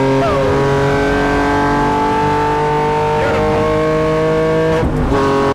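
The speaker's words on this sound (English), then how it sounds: "The Genius Garage built Lykan Hypersport. First time out. Lapped the track pretty fast." A straight-piped Lykan Hypersport build lapping a race track, its engine roaring loud and close with a sustained, harmonic-rich drone, brief shifts in pitch as it accelerates and changes gear, continuous throughout.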